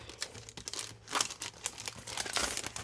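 Plastic packaging of a summer-themed sticker label sheet set crinkles and tears open in a close, busy run of rustles and crunches with no talking.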